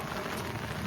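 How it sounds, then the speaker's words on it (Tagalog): Heavy rain pours down in a dense, steady hiss across the whole moment, a continuous wash of drops on surfaces with no break. "O, ano kung lakas ng ulan."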